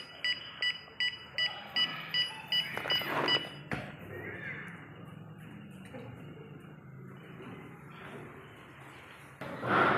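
A series of about ten short electronic beeps in a steady rhythm, fairly close, from a student robotics distance sensor alarm, followed by quieter background noise and a brief louder sound at the end.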